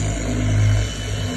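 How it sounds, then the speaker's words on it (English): An Italian-made high-speed buffer polishing and correcting paint on a BMW, a steady close motor whine that swells slightly in the middle, continuous and fairly loud. "This is a high-speed buffer made in Italy, strictly for paint correction."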